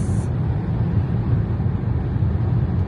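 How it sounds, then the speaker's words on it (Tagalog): Strong wind buffets the microphone outdoors in Canada in a steady, low roaring rush, loud and constant throughout with no voices. "sobrang hangin talaga sa labas"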